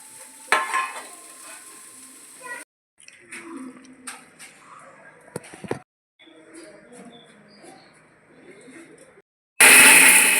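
Spices fry in a pan for Mangalore-style chicken sukka, with a soft sizzle and scraping stirs arriving in short, uneven bursts separated by silent gaps.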